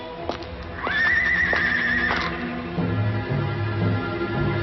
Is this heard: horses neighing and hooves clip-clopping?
yes